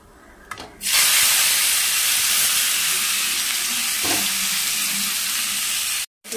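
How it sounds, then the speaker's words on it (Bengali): A loud, steady hiss of banana paste frying with black cumin in a pan starts abruptly and holds, with a brief stirring scrape partway through before the sound cuts off at the end. "নাড়িয়ে দিই"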